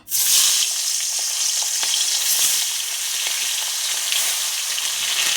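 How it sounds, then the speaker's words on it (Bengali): Hilsa fish pieces sliding into hot oil set off a sudden, loud, bright sizzle that stays dense and close for several seconds, with light crackles and spatters. "তেলটা গরম হয়ে গেছে, এখন আমি একে একে মাছগুলো দিয়ে দেব।"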